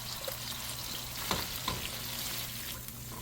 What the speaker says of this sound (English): I'm now going to put in the grind shrimp. So I'm going to saute this for a while